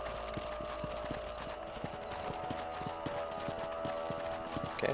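Horse hooves clip-clopping in the video game Red Dead Redemption, a quick regular rhythm of close hoofbeats running under faint ambient sound.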